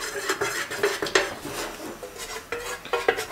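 Orange gold dye is stirred into melted candle wax in a small pitcher, with light scraping and clinking of the stirrer against the container in quick repeated strokes, close and alone.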